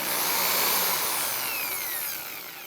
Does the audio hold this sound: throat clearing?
no